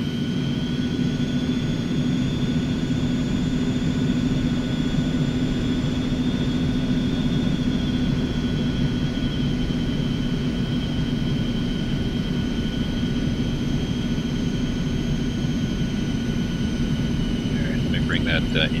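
Steady, loud jet engine roar with a sustained whine from an Eclipse 550 light business jet in X-Plane 11 as it powers up, holding constant throughout with a faint high tone drifting slightly.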